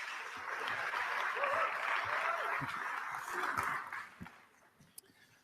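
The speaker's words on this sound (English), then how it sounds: "if we could have a big round of applause" A conference audience at an SEO event gives a big round of applause, dense sustained clapping that fills the room for about four seconds before thinning into a few last scattered claps.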